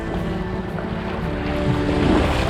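A flooded river rushes in a steady, loud roar of turbulent water close by, with wind buffeting the microphone throughout and no voices.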